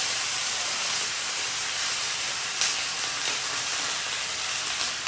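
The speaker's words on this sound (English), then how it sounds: "there is fat in this pan. So it's gonna wanna crackle and do that sort of thing." Water hits a hot pan with rendered fat while cooking shrimp dumplings, giving a steady, loud steaming hiss with faint crackles throughout.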